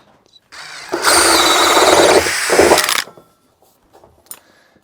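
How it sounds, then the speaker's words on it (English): A power drill with a 75mm bit whirs loudly for about two seconds as it bores a hole through material, then stops, leaving faint handling noises. "I'll use this 75mm drill bit and power drill to drill the hole"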